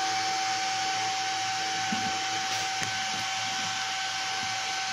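MIG welding on a 3.3 mm steel plate in the 2G position at about 130 amps, a steady, even hiss and crackle of the arc running continuously and close, with no talk.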